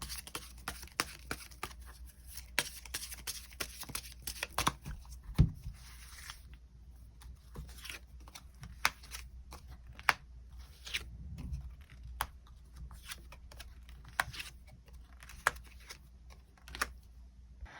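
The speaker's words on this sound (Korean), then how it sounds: "추가 카드 뽑아보도록 하겠습니다" Tarot cards being shuffled and drawn, a steady run of soft crisp flicks and slides at close range, with a slight thump midway and sparser clicks of individual cards afterward, with no talk.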